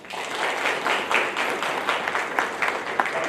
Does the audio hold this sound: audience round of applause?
yes